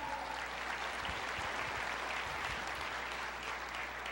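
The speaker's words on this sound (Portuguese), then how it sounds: "Pode aplaudir o Senhor, ande debaixo da honra" A church congregation applauds in dense, steady clapping that fills the whole stretch at an even level, with a low hum underneath and no clear talk on top.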